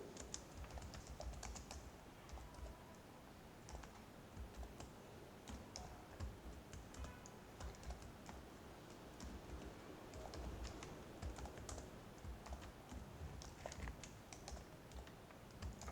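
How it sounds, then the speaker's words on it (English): Typing on a computer keyboard, a quiet run of rapid, irregular key clicks close by, continuing steadily with brief pauses and no talking. "So I will type something over here."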